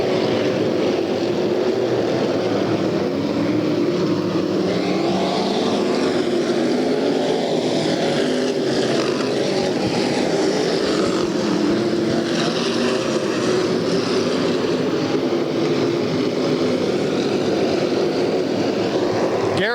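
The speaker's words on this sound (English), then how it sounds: "Steve Smotherman starts to build the RPM" Race car engines at a 100-lap enduro at a Bakersfield, California track roar continuously as the field builds RPM toward the green flag, a dense, loud, sustained drone with no break.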